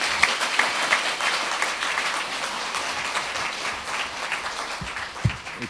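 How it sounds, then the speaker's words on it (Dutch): Studio audience at a Dutch late-night comedy show applauding steadily throughout, a dense wash of many hands clapping with a few louder claps near the end. "Oké, hartelijk applaus"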